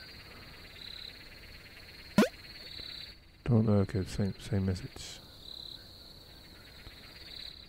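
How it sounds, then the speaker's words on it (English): Crickets chirp steadily with occasional bird calls in the nighttime ambience of the horror game The Smiling Man, a thin continuous insect trill behind a sharp sound and someone talking briefly. "We can hear the sounds of crickets and birds."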